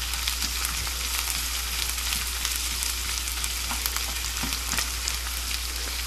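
Onion and pork sauté in a pan for ginisang pechay, a steady close sizzle with scattered scraping stir clicks running throughout, no talking.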